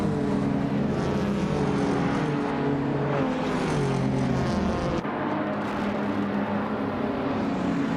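A classic 1987 Buick GNX 1980s supercar races in a video game, its engine a steady loud drone with shifting tonal whine throughout, continuous and close, no speech over it.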